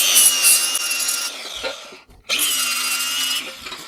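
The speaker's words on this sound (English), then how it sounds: "you're going to take and just clean the paint off around the hole" A power grinder cleans paint from around a drilled hole in a Razor scooter swing arm, a steady high abrasive whir that dips briefly to near silence midway before resuming.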